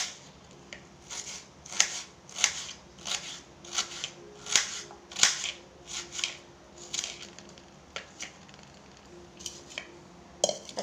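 An onion being cut with a knife on a board, heard as a series of crisp, close chopping clicks in an irregular rhythm, with a few sharper knocks and short pauses between strokes.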